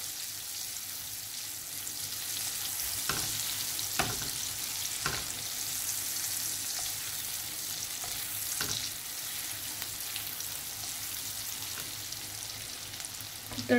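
Tadka tempering for dhaba-style urad (mash) dal sizzles and crackles steadily in hot oil, with occasional louder scraping knocks as it is stirred; close and continuous, no talking.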